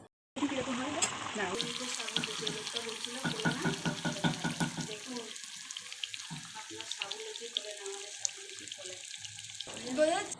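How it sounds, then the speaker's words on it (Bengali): Sabudana luchi, sago flatbreads, fry in hot oil, a bubbling sizzle rising strongly at first with stirring, then easing into a lighter, thinner crackle that continues steadily until the end. "সাবুদানার লুচি ভাজা হচ্ছে"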